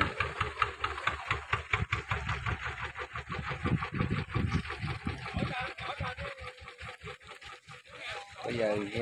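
A loaded wooden boat's engine idles and chugs in a rapid, steady thump as the boat pulls in to a river landing, close and fairly loud, with the rhythm loosening slightly toward the end.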